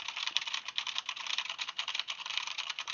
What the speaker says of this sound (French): avec toujours ce bon vieux clavier Corsair K70, équipé de switch MX Red